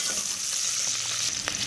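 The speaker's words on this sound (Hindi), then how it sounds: "इसमें डालेंगे प्याज और शिमला मिर्च सॉस के लिए। इसको थोड़ा सा फ्राई कर लेंगे।" Onion and bell pepper frying in a little oil for a sauce, giving a steady close sizzle with faint stirring clicks near the end and no talk.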